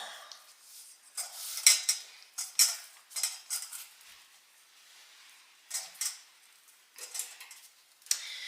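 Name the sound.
mixing crumb cake topping while turning the bowl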